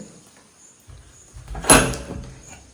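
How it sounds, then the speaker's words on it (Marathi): A door is pulled open after some faint shuffling, giving one brief loud scraping clack before the room goes quiet again. "पहिले पाठचा दरवाजा उघडते"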